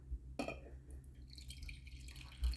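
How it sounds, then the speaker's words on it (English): Tea being poured into a cup gives faint, brief dripping and liquid trickle sounds, quiet and close with a soft clink near the start. "Sorry, I'm just gonna pour some tea here."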